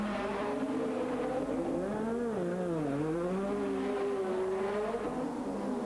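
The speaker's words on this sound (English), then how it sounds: "Prost McLaren hummed calmly on." A 1986 McLaren Formula 1 Grand Prix car's engine drones steadily and loudly, its pitch sliding down and back up through a corner before holding a high sustained note, with no talk.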